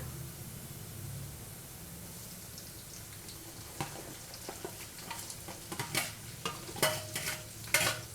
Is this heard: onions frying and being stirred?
yes